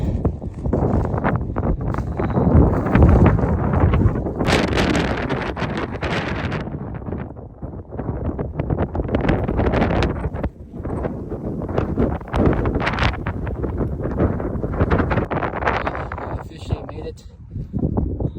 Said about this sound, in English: It is a bit windy if you can't already hear.